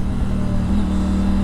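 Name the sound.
2020 Triumph Tiger 900 triple engine running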